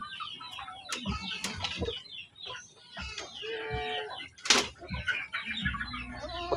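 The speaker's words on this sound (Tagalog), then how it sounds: "Yung iba mga panok ay doon sa pugad, naglilimlim kahit walang itlog." Hens cluck and chatter irregularly in a rustic coop with a holed roof, some roosting and others brooding in nests, with scattered clucks, soft squawks and light rustling close by.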